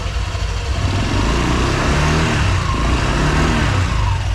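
Motorcycle engine running loudly and steadily up close in a workshop, a dense continuous mechanical drone without clear revving peaks.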